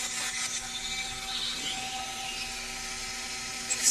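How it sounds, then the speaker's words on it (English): Small rotary drill boring holes in a beaded porthole pendant, a steady faint high-pitched whine with a thin motor hum, close and continuous without talk. "We're going to go ahead and drill those and set those, then drill a hole in the top"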